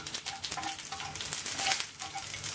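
Curry leaves and chillies crackle and sizzle steadily in hot oil with popped mustard seeds while tempering for coriander rice, a close, dense frying hiss with small bursts throughout and no voices.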